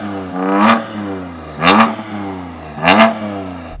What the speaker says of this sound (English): Let's have a listen to an S engine.